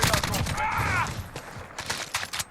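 Sustained automatic fire from an RPK light machine gun in the shooter game Call of Duty Modern Warfare, a dense rapid burst at the start followed by scattered shots, with someone talking over it.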